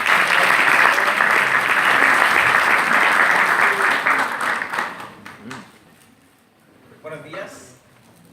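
An audience at a kinesiology conference applauds a speaker, dense clapping that holds strong for about five seconds, then thins out and fades into scattered claps and quiet room sound.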